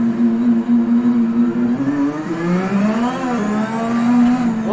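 The Ferrari SF70H Formula 1 car's engine in the racing game Assetto Corsa screams through rising and falling revs, with a steady high-pitched whine climbing through gear changes. It is loud and close, with no talking.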